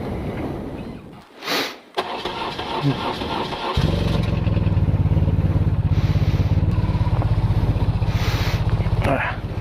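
A 300 kg motorcycle started on the choke: a brief whirring crank and sputter, then the engine catches and settles into a loud, steady, throbbing idle close by.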